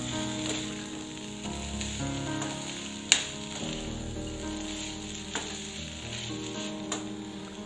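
Steady sizzling of coriander and curry leaves frying lightly in hot oil in a pan for chutney, with a few soft stirring clicks and pops along the way; no talking.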